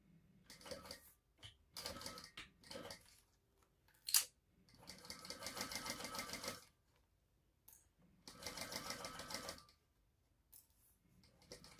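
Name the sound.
sewing machine stitching fabric seam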